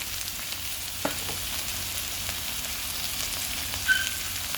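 Bottle gourd stir-frying in a pan with oyster sauce, a soft steady sizzle running throughout with a couple of faint spatula knocks, close and alone.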